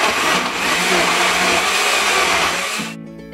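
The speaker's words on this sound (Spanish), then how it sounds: "Pon la licuadora en alta velocidad hasta que esté listo." A kitchen blender whirs loudly at high speed blending salsa for sopes, a steady dense roar that drops off abruptly as it switches off near the end.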